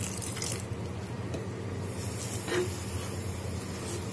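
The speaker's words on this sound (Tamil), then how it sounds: "கொஞ்சமாக தண்ணி சேர்த்துருவோம்." Water is poured into a pan of fish curry made with coconut milk, a light, steady splashing trickle heard close up with no voices.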